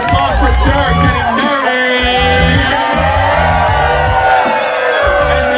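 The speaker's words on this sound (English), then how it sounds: "Everybody, let's give a big round of applause for Dirk getting" A loud, dense crowd at a rock karaoke night in Amsterdam cheering and whooping with shouts, sustained throughout, with music or hubbub underneath and likely applause mixed in.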